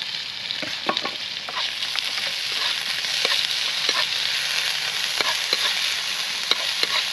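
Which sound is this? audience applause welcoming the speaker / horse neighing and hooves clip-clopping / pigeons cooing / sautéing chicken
sautéing chicken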